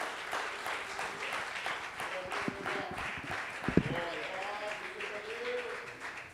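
Congregation at a Portuguese-language church service clapping in praise of the Lord, a continuous moderate patter of hands with a couple of sharper claps near the middle, fading slightly at the end.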